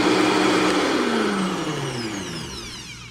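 A countertop blender whirs steadily while mixing a cocktail, its loud motor whine sliding gradually lower in pitch as it runs continuously for a few seconds with no talking.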